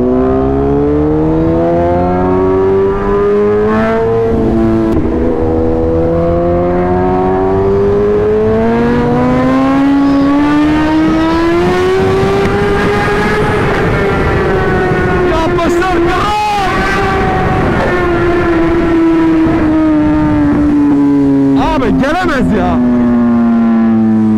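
A BMW M6 engine revs, its pitch climbing in long rising sweeps and dropping back, loud and close, with a voice talking and laughing over it.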